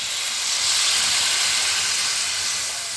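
Water hits a hot pan of fish curry with bitter gourd and sets off a loud, dense hiss. The hiss holds steady for a few seconds with no voices.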